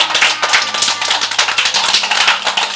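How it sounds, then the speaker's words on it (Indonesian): Audience clapping for winners of a children's speech contest at a family-welfare event in Cirebon, Indonesia, an uneven patter of claps from a modest crowd, fairly close and loud, with no talk over it. "Nah, tepuk tangan."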